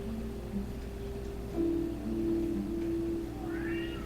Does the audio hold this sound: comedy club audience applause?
no